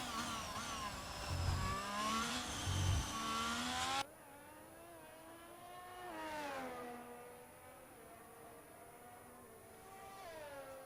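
A Formula 1 race car on a qualifying lap around Circuit de Barcelona-Catalunya in F1 2022, on soft tyres, its engine whining high and steady through upshifts and downshifts, loud at first, then dropping to a thinner, more distant drone.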